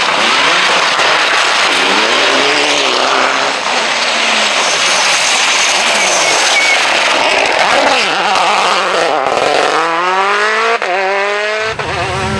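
A BMW rally car climbs the Monteberg rallysprint course in 2016, its engine revving loud and close through rising and falling gear changes, with a sharp pitch sweep toward the end as it passes.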